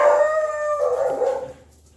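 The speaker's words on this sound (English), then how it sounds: "And the dogs go crazy." A close, loud dog howl wavers for about a second and a half, joined by yips and barks from more than one dog before it cuts off.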